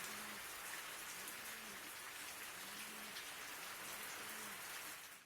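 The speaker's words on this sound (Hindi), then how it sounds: "राजधानी देहरादून में सुबह से मूसलाधार बारिश हो रही है" Heavy rain pours down in Dehradun, a dense, steady patter of drops hitting surfaces throughout, with a faint low repeating tone underneath and no talking.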